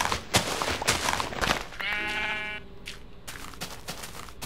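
A sheep bleats in the video game Minecraft, one clear wavering baa near the middle, set among rapid clicking and tapping game sounds.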